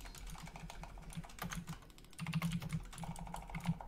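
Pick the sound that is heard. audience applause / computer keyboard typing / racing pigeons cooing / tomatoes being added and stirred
computer keyboard typing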